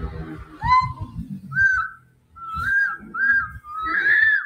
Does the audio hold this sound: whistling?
yes